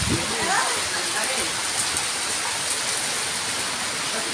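Heavy downpour drumming steadily and loudly without pause, a dense, close hiss of rain filling the whole stretch.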